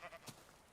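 A single sheep bleats briefly in a video game world, a short nasal call that fades quickly against faint background game ambience.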